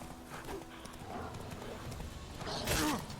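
Roach the horse galloping in The Witcher 3, a steady clip-clop of hooves with a whinny near the end, while a player talks over it.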